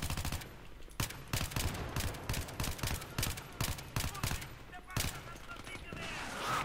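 Battlefield 3 machine gun fire crackles in irregular rapid bursts throughout, sharp repeated shots at middling distance layered over constant battlefield din.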